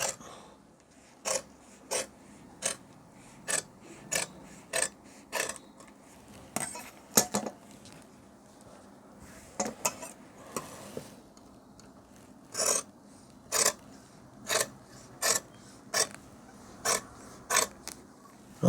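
Scissors cut fabric for a school uniform chudithar in a series of short, crisp snips. The snips come in a steady rhythm, close and fairly quiet, with a brief pause partway through.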